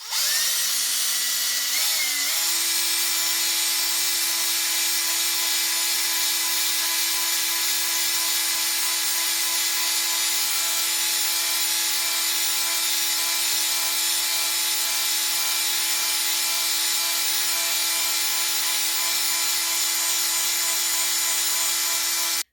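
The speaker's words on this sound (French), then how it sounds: "on va venir mélanger un bon 5 minutes parce que l'époxy, il faut que ça soit vraiment bien mélangé pour que ça adhère" Power drill with a mixer paddle stirring catalysed epoxy paint, a steady loud motor whine with a brief speed change at the start, then running continuously and alone throughout.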